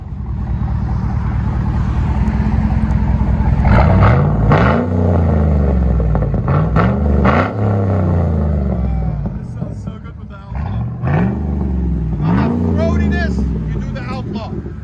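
A 2012 GMC Yukon Denali with a 6.2L V8 and Flowmaster Outlaw exhaust revs up close in several deep, rising bursts, each falling back to a low, rumbling idle between blips.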